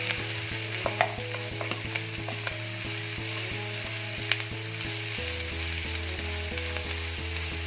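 Chopped onions frying in hot oil in a pan for masala puri stuffing, a steady bright sizzle with light scraping stirs and small pops, close and continuous with no voices.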